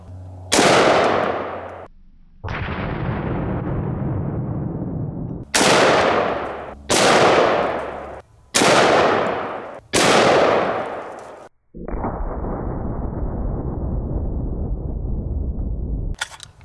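.50 BMG rifle shots fired at an axe: six loud, sharp blasts in an irregular series, each with a ringing decay, separated by stretches of steady background rumble.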